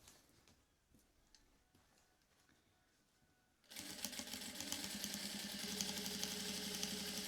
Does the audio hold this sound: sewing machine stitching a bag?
yes